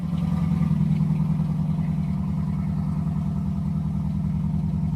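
A small-block Chevy 350 V8 idles after a cold start, following a timing adjustment: a loud, steady, close rumble with an even pulsing beat and no voices.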